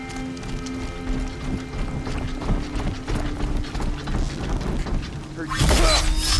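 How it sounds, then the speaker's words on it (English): In Horizon Zero Dawn: The Frozen Wilds, the Eclipse force bursts through amid clattering metal and mechanical clanking, ending in a loud crashing shatter near the end, with voices talking over the din. "The Eclipse smashed through."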